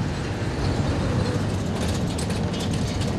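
Road traffic rumbles steadily during a drive transporting a rescued Indus blind dolphin. A constant low, heavy road and engine drone from a vehicle in motion continues without break and fairly loud, with no talk.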